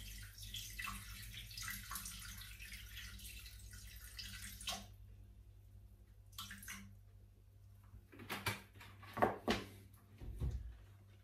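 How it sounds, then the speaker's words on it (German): Orange juice, 250 grams, pours steadily into a Thermomix bowl for about five seconds, followed by a few louder clunks and knocks close by; no one speaks. "Wir geben 250 Gramm Orangensaft."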